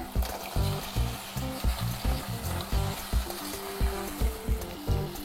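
Chopped carrots stir-frying in a pan for carrot pulao, with a steady sizzle broken by regular scraping and clattering strokes of a spatula, close and moderately loud.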